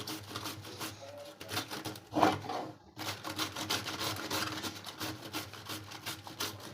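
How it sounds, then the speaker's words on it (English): Cabbage is grated on a hand grater in a home kitchen, making rapid, rhythmic rasping strokes, close and moderately loud, with one brief pause partway through. "To see how easy it is to use this grater."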